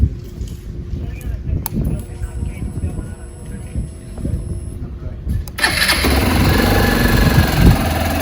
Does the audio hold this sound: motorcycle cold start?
yes